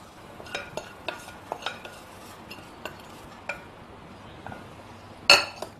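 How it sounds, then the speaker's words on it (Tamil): A spoon stirs coriander into idli paniyaram batter, giving a series of light, irregular clinks and taps against the bowl, ending in one sharper knock. "இப்போ இதை இந்த மாவுல கலந்துக்கலாம்."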